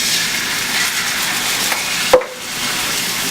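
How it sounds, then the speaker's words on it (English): Refried beans heating in a pan on the stove, a steady close hiss and sizzle with a brief clink or scrape of a utensil near the end before the sizzle settles lower. "start heating up my refried beans"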